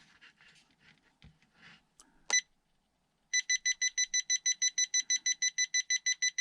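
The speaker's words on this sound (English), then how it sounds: "at the end there's a loud beep, that's the maximum. And in center position there's a double beep" Electronic speed control on a RocHobby 1941 Willys MB 1/12 scale RC jeep beeping during steering trim adjustment: a few scattered chirps and one sharp beep, then a quick, even run of about fifteen identical high-pitched beeps, clear and close.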